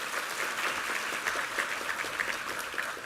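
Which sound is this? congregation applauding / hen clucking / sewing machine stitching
congregation applauding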